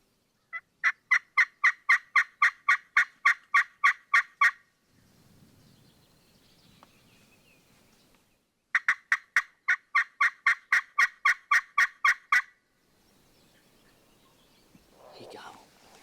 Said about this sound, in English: He gobbled.